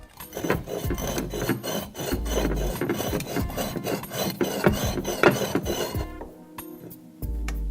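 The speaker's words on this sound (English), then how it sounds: "You can hear that glaze scratching and grinding against the other part of the glaze." Hard glazed ceramic, a glazed dish foot, scraped and ground against other glaze in repeated rasping strokes, gritty and close, with a brief quieter pause near the end.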